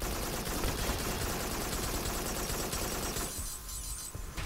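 Heavy rocket and gun fire in the PSVR shooter Farpoint during a giant robot fight, a loud sustained barrage of blasts and shots that thins out near the end.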